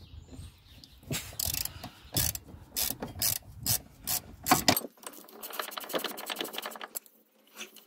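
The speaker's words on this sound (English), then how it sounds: "one there that the ratchet's just going on, and one up the top here" A ratchet wrench clicks in quick bursts of repeated pawl ticks while loosening brake caliper bolts on a Rover 45, close up with brief pauses between strokes, followed by a softer rubbing, grinding run of clicks.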